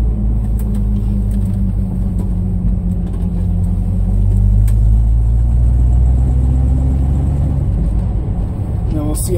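A 1978 K5 Blazer pulls away on a cold start with the choke still on, its engine a loud, steady low rumble that swells slightly mid-drive over continuous road and cabin noise, with no break in the drone.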